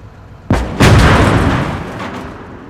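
An 88 mm Pak 43/41 anti-tank gun fires in the WWII game Gates of Hell: Ostfront, giving a loud, sharp blast followed by a second heavy boom whose rumbling echo slowly fades over the next two seconds.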